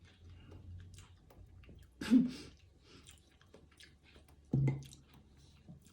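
Ripe papaya being bitten and chewed up close, two sharp wet crunchy bites followed by soft squishy chewing, quiet overall with faint background noise and no talk.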